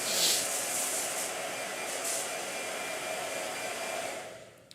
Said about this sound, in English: You are just all about that blow dryer today, aren't you?